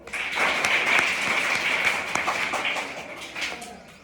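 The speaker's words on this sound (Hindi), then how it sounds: "अरे वाह वाह, ताली बजाओ।" Schoolchildren clapping in a government middle school classroom, a lively burst of applause that swells quickly, holds for a few seconds and tapers off near the end.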